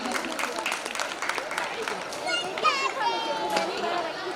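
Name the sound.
audience applause at a school poetry event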